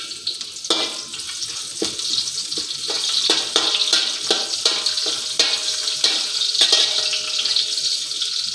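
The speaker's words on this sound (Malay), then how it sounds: "Apa kita goreng ikan bilis dulu." Anchovies (ikan bilis) fry in hot oil, crackling and sizzling steadily while sharp spatula or utensil clinks punctuate the sizzle at irregular intervals.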